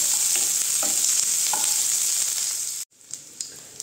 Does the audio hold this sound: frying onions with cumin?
yes